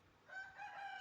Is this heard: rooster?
yes